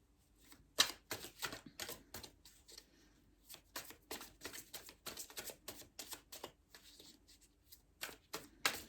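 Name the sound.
tarot cards being shuffled and chosen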